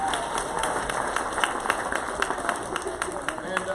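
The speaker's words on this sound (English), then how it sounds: "A round of applause for our victims," Applause from an audience at a school spring concert, a steady patter of clapping with crowd murmur running throughout at moderate level.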